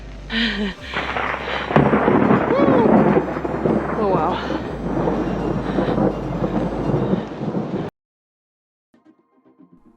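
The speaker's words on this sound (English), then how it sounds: "Massive storm is pulling up right now." Loud, continuous deep rumbling of thunder from an approaching storm in the mountains of Switzerland rolls on for several seconds, with a brief exclamation from a person, then cuts to near silence.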